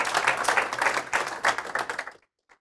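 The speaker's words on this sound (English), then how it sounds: "let's give them a round of applause" Applause from a school conference audience after a career and technical education presentation, a dense burst of many hands clapping that fades out after about two seconds, followed by silence and one faint tap.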